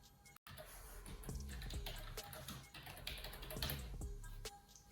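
Keys tapped on a computer keyboard while entering a product name in an online print-on-demand shop, a quick run of close, light clicks at an even pace over faint background noise.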